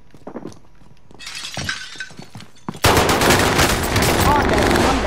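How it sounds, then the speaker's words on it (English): Gunfire in Call of Duty: Warzone erupts midway as a loud, dense burst of rapid shots and crashing impacts, following a quieter stretch of scattered clicks and short sounds. "Oh, I hear shots."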